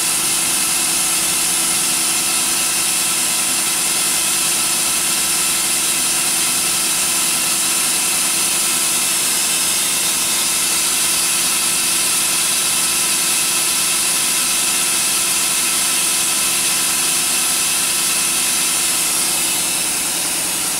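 A machine's air compressor recycles with a loud, steady, unbroken hum that holds at an even level from start to finish, with no talking.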